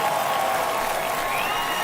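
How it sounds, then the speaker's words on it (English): A home crowd roars after a game-tying home run in the baseball video game MLB The Show 22, a dense, steady wash of cheering and applause that holds at full volume throughout. "That fires up the home crowd"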